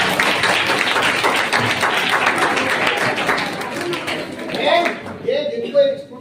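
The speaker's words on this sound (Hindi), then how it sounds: "शाबाश, ताली बजाओ अपने लिए।" A group of school children claps for themselves in a classroom, a dense burst of clapping lasting several seconds that fades out with scattered voices afterward.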